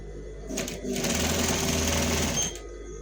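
A sewing machine runs in a steady continuous whir for a few seconds while stitching a spiral Senegalese headgear, starting and stopping briefly near the beginning and end.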